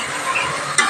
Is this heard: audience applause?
no